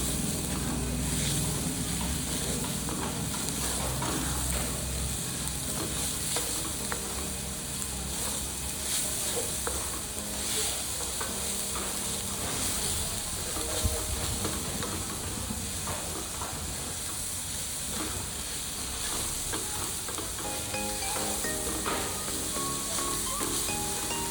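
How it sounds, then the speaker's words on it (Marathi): Sugar and grated coconut cooking in a pan for coconut barfi, a steady close sizzle and hiss with scraping stir strokes running throughout at an even level. "आता ही साखर गुरगळत तोपर्यंत आपण हे हलवून घेणार आहोत सारखं हलवायचं आहे आपल्याला"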